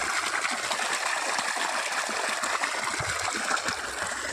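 Water runs steadily in a continuous rushing, splashing flow with no letup, fairly loud and close, and nobody speaks.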